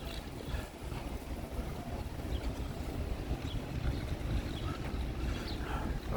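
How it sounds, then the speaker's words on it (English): Strong wind gusts outdoors in North Bergen, New Jersey, a steady low roar and rumble buffeting the microphone throughout, with no voices over it. "Kind of windy out here today."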